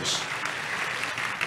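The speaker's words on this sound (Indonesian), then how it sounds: "Kasih tepuk tangan yang meriah untuk Tuhan Yesus." Church congregation applauding, a dense continuous wash of clapping heard from within the room, moderately loud and steady throughout.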